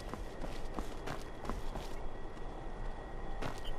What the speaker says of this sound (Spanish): Escuché pisadas.